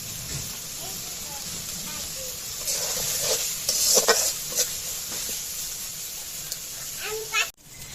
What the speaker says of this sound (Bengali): মশলাটা ভালো মতো কষানো হয়ে গেছে, তেল উপর দিয়ে ওঠা শুরু করেছে